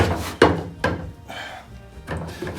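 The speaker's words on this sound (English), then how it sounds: "Because you really want to enjoy watching me open a Bondo can for 15 friggin' minutes" Lid of a Bondo body filler can being pried open, giving several sharp metallic thunks and knocks spaced irregularly, close and moderately loud, with a scraping stretch in between.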